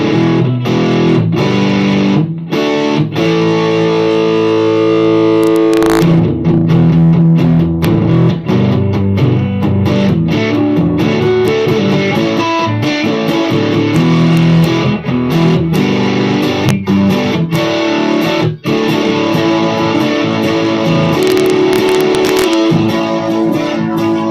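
Sustained acoustic guitar chords on a 1984 Ovation Ultra GS, heavily processed with reverb, ring out continuously with a washy, reverberant tail, loud and up close, with brief gaps between strummed phrases.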